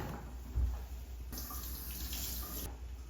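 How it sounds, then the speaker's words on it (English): Water runs steadily from a tap while hands are washed beneath it, a continuous close splash with a brief thump early on and the flow growing brighter midway. "You always have to wash your hands before you eat. So I'm going to wash it."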